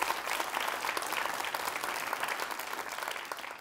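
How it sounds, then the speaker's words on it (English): A convocation audience claps steadily, a dense, even patter of applause that holds throughout and tapers slightly at the end. "And give yourselves a round of applause."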